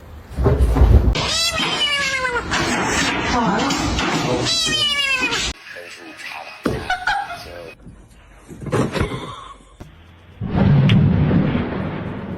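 A cat meows repeatedly, with loud, close, drawn-out wails at the start, then shorter cries and clatter, while people talk and laugh.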